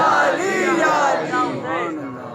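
A crowd at a Sufi religious gathering shouts a devotional slogan in unison, loud and close, a sustained chorus of voices rising and falling over about two seconds.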